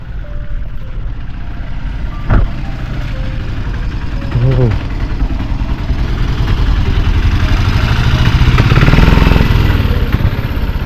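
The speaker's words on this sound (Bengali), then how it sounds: "এই বাইক আসছে, সাইডে এসো।" A motorcycle engine drones steadily and loudly on a zigzag hill road through a village near Ooty. The rumble swells slightly over time, and a couple of brief tonal beeps cut in early.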